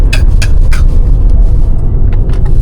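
BMW E90 335i with an N55 engine running with a misfire, heard as a loud, steady low rumble with several sharp uneven bursts in the first second and weaker ones later, no voices.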